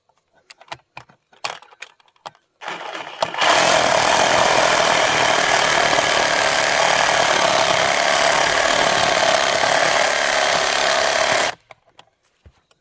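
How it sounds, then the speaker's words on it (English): A reciprocating saw cuts into a deer feeder outdoors, a loud buzzing rasp lasting about eight seconds after a few clanks of tools being handled, then stopping abruptly. "since I brought all the tools, might as well just use a sawzall"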